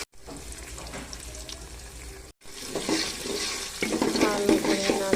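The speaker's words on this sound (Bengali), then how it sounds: "ভালো করে নাড়াচাড়া দিয়ে দিচ্ছি যেন মশলাগুলো ভালো করে কষানো হয়ে যায়" Whole spices (cinnamon, cardamom, bay leaf and cloves) sizzle in hot oil as they are stirred for pulao, with a steady frying hiss, a brief silent break, then louder scraping and crackling that continues to the end.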